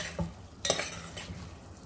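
Chana dal and potato sabzi is stirred and fried in a pan, with soft sizzling under a scrape of a spoon around 0.2 seconds and a sharper metallic clatter near 0.7 seconds, close up.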